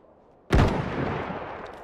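A single loud rifle shot in the Iron Harvest video game cracks sharply after a quiet moment, then decays into a long rumbling echo.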